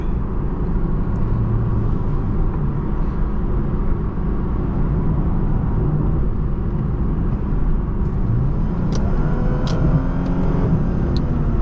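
A 2012 Lexus IS350 F-Sport is heard from inside the cabin while driving, a loud, steady engine and road rumble with a few faint ticks and rattles near the end.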